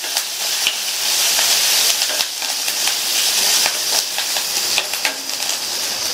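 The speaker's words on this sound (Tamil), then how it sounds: "இது கூட 1/2 இன்ச் அளவுள்ள இஞ்சியையும் 3 பூண்டையும் இந்த மாதிரி ஸ்லைசஸாக கட் பண்ணி சேர்த்துட்டு மறுபடியும் இதை லைட்டாக வதக்கி விட்டுக்கலாம்." Sliced ginger and garlic sautéing in a pan for a lunch dish, giving a loud, steady close sizzle with occasional scraping stir sounds throughout.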